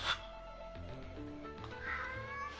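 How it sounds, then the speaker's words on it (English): A domestic cat meows indoors. A few faint, drawn-out, wavering cries are heard close by, with no talk over them. "Fucking cat. You can make that noise at me all you want."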